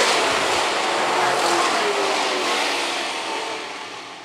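Late model race cars at Phillips County Raceway roar past in a loud, sustained engine wash that fades slightly toward the end, with no voices over it.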